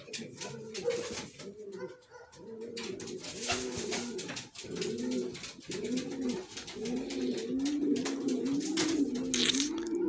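Pigeons coo in repeated, throaty rolling phrases, close and steady, overlapping with scattered rustling and light background noise. A voice seems to murmur faintly underneath.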